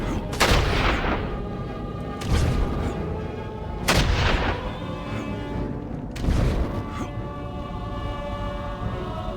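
Heavy booming gunfire from the video game Dark Alliance, four loud broadband blasts spaced a couple of seconds apart over a steady rumbling game backdrop, with no talk.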